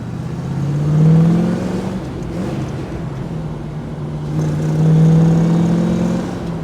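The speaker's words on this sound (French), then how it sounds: "on sent que le V8 rugit vraiment très très bien" The V8 engine of a 1958 Corvette C1 revs up and settles twice, a deep, throaty roar that swells and eases. It sounds steady and fairly close.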